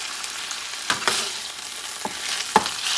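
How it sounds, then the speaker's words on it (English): Pork sizzling in a pot while it's stirred, a steady soft hiss of frying broken by a few louder scraping pops, close by and without talk. "I'm cooking this pork to give it some character."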